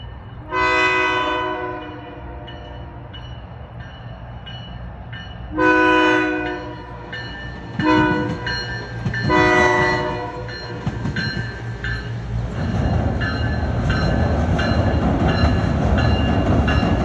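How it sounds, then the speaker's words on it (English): The SMART commuter train passes close by along the Petaluma River, sounding three loud horn blasts over a deep, steady rumble that builds into a roaring rush of cars going by. "here it comes, the Smart Train"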